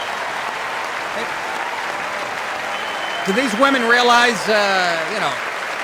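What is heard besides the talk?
applause in Congress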